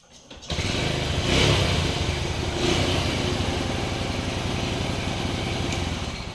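An old motorcycle fitted with a new self-starter fires up at once and settles into a loud, steady, close-up idle, its engine thrumming evenly throughout with no voices over it.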